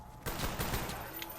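A short, close volley of gunfire in Call of Duty Black Ops Zombies, several rapid shots starting abruptly and ringing out over about a second.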